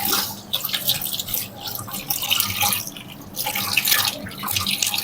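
Rose water is poured over an eye to rinse it: a continuous close splashing, trickling wash of liquid with uneven surges and no speech.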